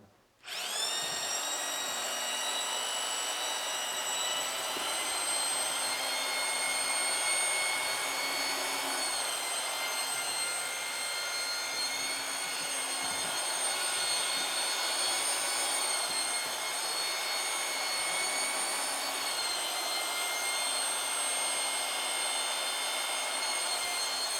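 A drill fitted with a mixing paddle spins continuously in a bucket of drywall joint compound, a loud, steady high-pitched whine holding at one speed from start to finish.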